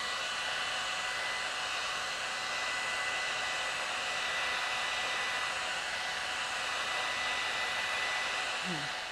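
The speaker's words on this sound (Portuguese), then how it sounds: "você pode usar um truquezinho, que é o secador de cabelo, tá?" A hair dryer blows continuously and steadily, a loud even whooshing whir used to dry painted MDF craft plaques, unbroken throughout.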